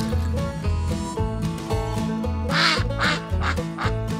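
A cartoon duck quacks repeatedly in a rhythmic run of short nasal calls, mixed loudly over upbeat background music.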